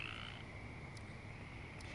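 Frogs croak in a soft, continuous chorus heard from a distance, with a sustained trilling tone and a couple of brief higher chirps standing out.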